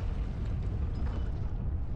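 In the Prince of Persia: The Forgotten Sands video game, a loud, deep explosion keeps up a continuous rumbling roar throughout, with no voices.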